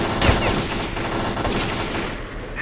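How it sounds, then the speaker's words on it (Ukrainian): Rapid bursts of gunfire in the video game S.T.A.L.K.E.R.: Clear Sky crackle continuously, dense and loud, like a firefight with automatic weapons going off without pause. "Хтось стріляє."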